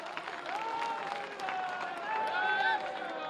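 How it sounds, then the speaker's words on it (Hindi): An audience at a public welcoming ceremony in Uttar Pradesh rises to applaud an honored guest, a Maharaj. The steady, moderately distant clapping continues under a voice speaking over a sound system. "खड़ा करके आप लोग स्वागत करिए महाराज जी का तालियों के साथ।"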